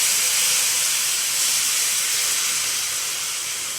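Tamarind extract poured into frying bitter gourd gives a loud, steady, close hiss of sizzling that holds without pause.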